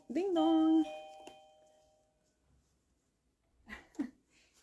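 A doorbell gives a single clear ding-dong chime up close, ringing out and fading, followed by quiet room noise and a few faint soft sounds.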